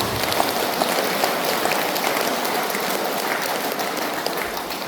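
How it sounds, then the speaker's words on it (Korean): Congregation applause at a Buddhist service: a dense, even patter of many hands clapping together, loud and steady throughout with no talk over it. "우리 형제 여러분께 감사의 찬탄 박수 드립니다"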